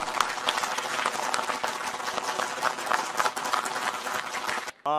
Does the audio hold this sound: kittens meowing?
no